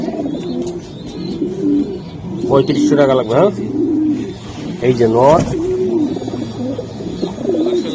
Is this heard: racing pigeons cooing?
yes